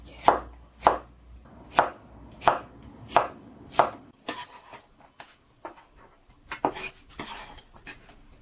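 A knife chops zucchini on a cutting board for clam kalguksu, with about seven crisp, evenly spaced thuds followed by softer, irregular taps and light clatter, close and clear.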